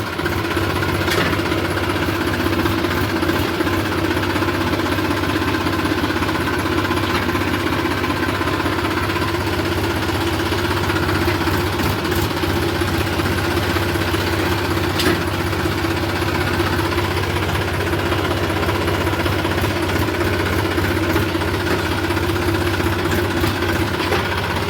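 A tractor engine runs steadily while backing up with a trailer hitched behind, a continuous close mid-to-low idle-like drone with faint knocking and vibration, no talking over it, on a rainy day on a farm.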